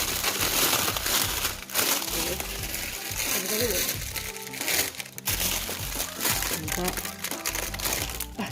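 Packaging material torn and crinkled by hand while fitting a full WRC exhaust system to a Honda Vario 150 LED scooter, with repeated crackling rips and rustles close up, mixed in with ongoing talk.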